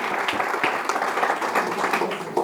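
Clapping and scattered cheers from an audience at a community lecture event, a moderate, fairly brief burst of applause at an even level with no talking over it.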